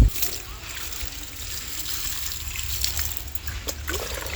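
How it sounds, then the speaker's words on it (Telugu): Water trickles and splashes onto a vermicompost bed of earthworm manure, a steady light sprinkling over about four seconds with faint background noise and no speech. "ఇప్పుడు నీళ్ళు చుంకిచ్చేసేయమ్మా."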